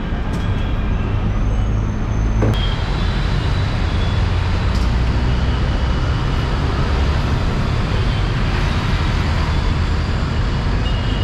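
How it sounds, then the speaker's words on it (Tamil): A Chennai MTC city bus pulls in to a stop, its loud, steady engine rumble and road noise heard from inside and filling the whole stretch, with brief higher clatters near the start. "இப்போ பஸ் நிற்கிறதாங்க அம்பாள் நகர் பஸ் ஸ்டாப்"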